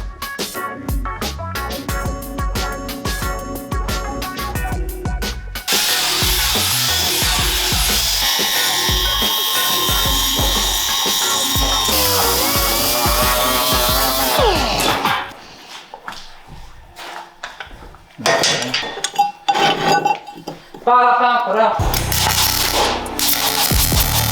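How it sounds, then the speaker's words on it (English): Power tool cutting steel flat bar for Porsche 914 go-kart rear suspension fabrication: bursts of harsh, shrieking metal cutting, loud and close, broken by pauses, clanks and handling noise. "let's cut some flat bar and clean these up"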